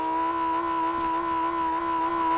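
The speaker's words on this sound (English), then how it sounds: "Yeah, you hear Eggman revving?" A Lamborghini engine in the Fortnite video game drones steadily and loudly with a constant pitch, heard alone without any talking.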